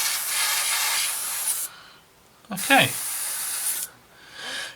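A spray can hisses in two long bursts while painting a Tamiya 1/48 Spitfire Mk.1 model kit, close and steady with short pauses between, and someone speaks briefly during the second burst.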